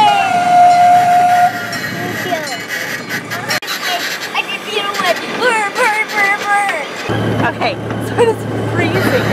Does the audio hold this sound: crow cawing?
no